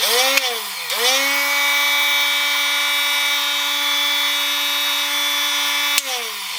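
A cordless mini angle grinder spins up with a rising whine, then holds a loud, steady high-pitched motor tone for several seconds before winding down.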